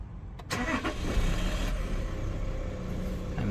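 A 2021 Toyota LandCruiser 300 Series GXL with a 3.3 turbo diesel cranks briefly, catches and settles into a steady, quiet idle, heard close up with no talking.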